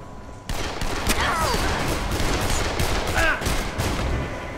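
Rapid bursts of gunfire from the Dead Island zombie game, a dense volley of loud shots crackling close, with scattered short gunshots continuing afterward, no speech.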